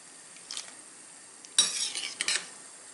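A metal skimmer scooping boiled watermelon rind out of a pot for jam, giving a faint scrape at first and then a louder clatter with watery splashing and dripping.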